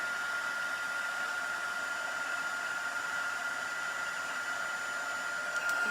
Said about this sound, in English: I'm just embossing or heat embossing this.